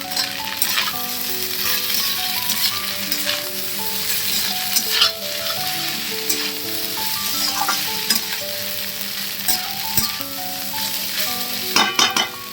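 Fried rice stir-fried in a pan on full high heat gives a continuous close sizzle, with scraping and tossing of the spatula and a few sharper clacks near the end.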